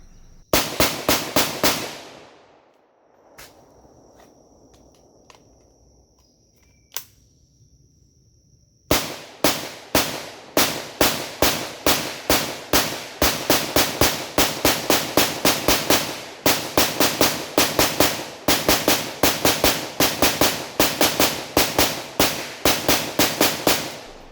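An AK-pattern rifle fires 5.56 rounds from a Circle 10 45-round 5.45 magazine fitted with a conversion follower. A few sharp shots come first, then a pause, then a long run of loud, evenly spaced, echoing reports.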